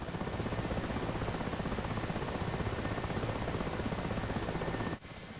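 Mi-8 helicopter engine in the DCS flight simulator, a steady loud turbine whine with a rhythmic rotor chop, unchanging for about five seconds before a brief dip and slightly quieter continuation.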